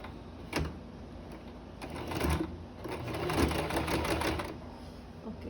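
Sewing machine stitching through multiple layers of fabric for a face mask, short bursts of rapid needle clatter that start, stop and restart, close and fairly loud with no talk.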